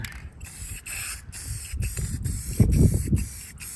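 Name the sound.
spray painting underside of mower deck with Rust-Oleum gloss black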